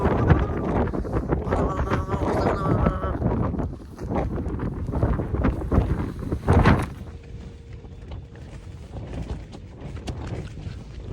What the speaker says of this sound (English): it's starting to get blowy